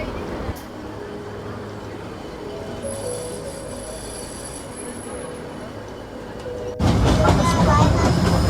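Ooty toy train rolling along the rails, a steady rumble with faint high wheel squeal, swelling suddenly louder near the end as the train comes close.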